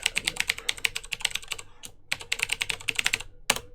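Fingers type an email address on a computer keyboard in quick close bursts of clicking keystrokes, with a short pause in the middle and a final sharp keystroke near the end.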